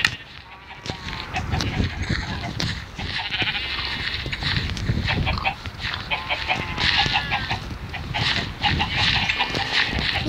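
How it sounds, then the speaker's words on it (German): Minecraft farm animals such as pigs grunt and squeal in a busy, overlapping chorus alongside bleats and honks, with game noise running continuously throughout. "Die Schweine sind süß."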